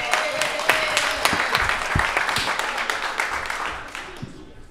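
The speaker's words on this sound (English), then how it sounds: "Give him a round of applause, y'all." An audience at a community event in Philadelphia applauding a speaker as he takes the floor, a strong close burst of clapping with a few louder claps and cheers, tapering off near the end.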